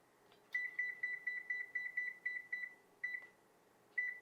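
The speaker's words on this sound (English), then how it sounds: "We're gonna start preheating our oven to 300 degrees." An oven control panel sounds a rapid run of about a dozen short, bright beeps as it is set to preheat to 300 degrees, followed by two more separate beeps, fairly close and alone in a quiet kitchen.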